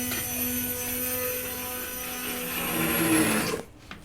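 A kitchen blender pounds keşkek, the Turkish wheat and meat dish, with a loud, steady motor whine and grinding that runs close and continuous, then cuts off abruptly near the end.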